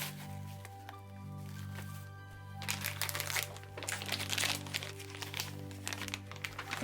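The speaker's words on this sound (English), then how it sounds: "First, you have to put the cookie mix in." Dry cookie mix pours into a jar with a continuous gritty, crinkling rush that grows louder and more granular midway, close by with faint background tones.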